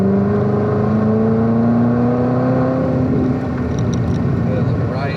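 A Corvette C7 ZR1 engine pulls steadily on a track at Spring Mountain, a loud, close drone with a slowly rising pitch before it eases off near the end.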